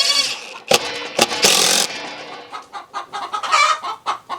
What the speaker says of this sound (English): It turns into like a duet and a trio, all singing the egg song.